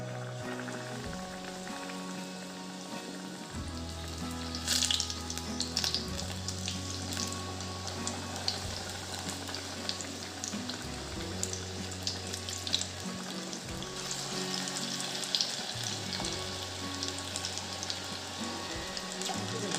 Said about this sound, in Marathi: आता आपण मिरचीची भजी तळून घेऊ